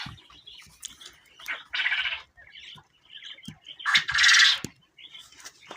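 Quail on a farm, including males, calling in short bursts of chirps and squawks, with a couple of louder, harsher calls standing out against quiet gaps nearby.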